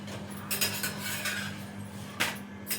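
Dull metallic knocks and clinks sound as chapati is dropped into a metal bowl in a home kitchen, with a few close, separate impacts in a short, quiet stretch.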